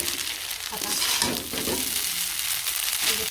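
Spices being stirred into food frying in a pan in a village kitchen: a steady close hiss and sizzle fills the whole stretch, with soft scraping and stirring movements rising and falling through it.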